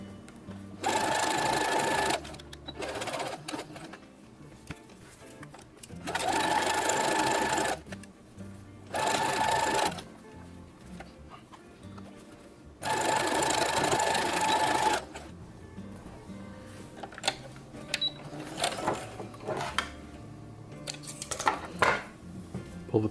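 A sewing machine runs a zigzag stitch on a Star Wars jumpsuit in several quick bursts of fast, even whirring. Quiet clinks and handling noises fill the pauses between runs.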